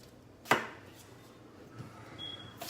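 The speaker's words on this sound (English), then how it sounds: "I'm just cutting these into like little 1-inch to 1/2-inch cubes" A knife chops red potatoes into small cubes on a cutting board, one sharp close chop followed by a quieter tap and a final knock, with no talking.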